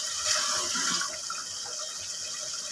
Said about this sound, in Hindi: मैं इसमें वही पानी यूज़ कर रही हूँ जो हमने इसका निकाला था बॉईल करते वक्त।